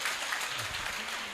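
A school audience at a primary school variety show applauds the emcees, a brief, steady burst of clapping with a low voice murmuring underneath.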